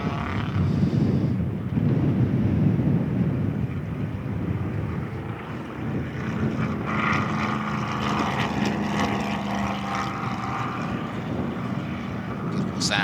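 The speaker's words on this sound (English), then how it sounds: "Beautiful sound of a V8 chomping through the hills here at Sonoma." A Chrysler Hemi V8 sports production race car, built by Frank Kurtis, roars through the hills at the Sonoma Speed Festival, heard from a distance with wind buffeting and a commentator talking over it.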